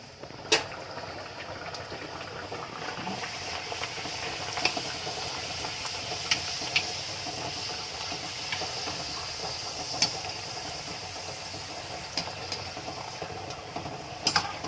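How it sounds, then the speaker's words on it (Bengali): Peas kachori deep-fry in a wok with a steady, close sizzling hiss, punctuated by occasional small pops and crackles throughout. "এদিকে কচুরি ভাজছি"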